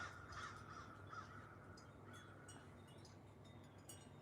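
Big birds cawing outdoors, crow-like calls repeating faintly at a distance over a quiet open-air background.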